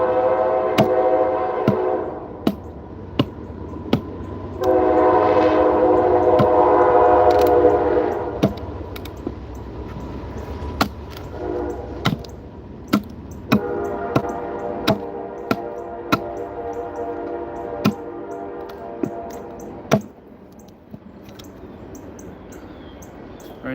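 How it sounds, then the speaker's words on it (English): Train passing on railroad tracks next to a home, with several long, loud horn blasts over the rumble of the rolling cars and repeated sharp knocks and clicks throughout. "Sorry about the train. Live next to the tracks. It'll be gone in a minute."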